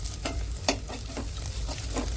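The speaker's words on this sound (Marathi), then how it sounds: "मीठ टाका आणि व्यवस्थित परतून घ्या।" Boiled potato sautéed with salt in a pan, a spatula scraping in steady repeated strokes over a soft, quiet sizzle, with no talking.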